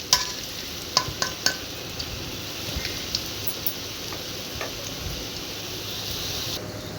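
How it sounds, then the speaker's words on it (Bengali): Lentil fritters fry in hot oil with a steady, dense sizzle that carries on throughout, broken by a few sharp clicks and taps of utensils early on. "কিছু সময় ডালের বড়াটা ভাজা করছি, এটা একটু সময় লাগবে।"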